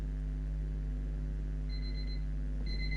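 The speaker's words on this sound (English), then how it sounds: "Apologies if you could hear the beeping. Apparently I put my alarms on the PM instead of AM." An alarm clock beeping faintly in a room during a Roblox play session, with short high tones entering partway through and returning near the end over a steady low hum.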